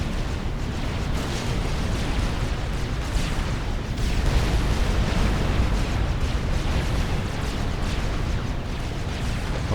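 An artillery attack on a base in the Supreme Commander video game, a continuous loud wash of explosions and booming shellfire that keeps rolling without a break from start to finish.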